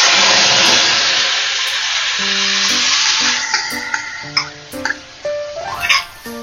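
A ground spice paste mixed in water hits hot oil while cooking a light katla fish curry with vegetables, giving a loud, broad sizzle that gradually fades, with scattered clinks and scrapes of utensils toward the end.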